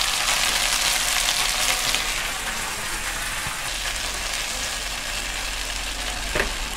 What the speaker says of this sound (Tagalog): Meron na tayong sizzling hot dogs na walang sizzling plate.